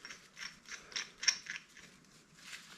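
A new bolt-on flywheel puller is tightened on a classic Mini engine with a seized flywheel. Faint, close mechanical clicks and ratcheting come in uneven bursts.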